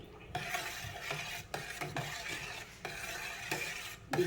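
A spoon scrapes and stirs through a thick sambar of field beans and brinjal in a pot, in repeated strokes with soft clinks against the metal, close up, no voices.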